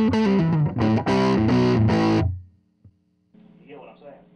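An electric guitar plays through a modded 1966 Kalamazoo Reverb 12 amp, loud distorted chords struck in quick succession then ringing out, followed by a short pause and softer sustained notes.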